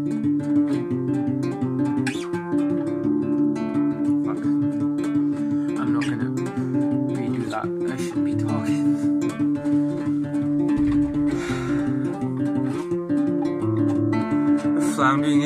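A guitar plays Crywank's song "I Am In Great Pain, Please Help Me" as a full, steady strummed passage with a continuous low drone of chords, played close and alone without talk.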